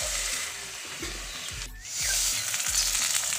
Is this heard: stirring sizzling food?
yes